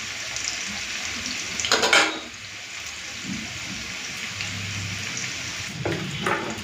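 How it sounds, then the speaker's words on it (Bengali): Potatoes frying in a pan for a vegetarian cauliflower and potato curry, a moderate sizzle broken by brief bursts of louder hissing and scraping, heard close with no talking. "আলুটাকে পুরো লাল করে ভেজে নেব"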